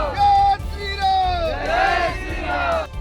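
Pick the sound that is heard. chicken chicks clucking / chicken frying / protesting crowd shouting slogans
protesting crowd shouting slogans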